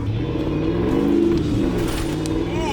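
A V8 sport truck with a five-speed on brand new Nitto tires revs steadily through a corner, a loud, close engine drone rising and falling, with a faint voice briefly under it.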